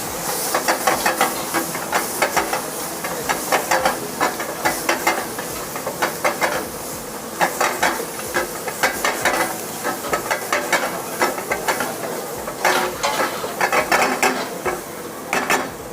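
Steady sizzling and hissing of mutton fry being stirred in a hot pan, with a continuous rapid clatter of spatula strokes throughout, close and loud, no voices.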